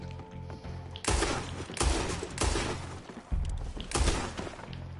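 Gunfire in the open-world western video game Red Dead Redemption 2: several loud, sharp shots in close succession, each a broadband burst over a low rumbling game soundscape, with no talk.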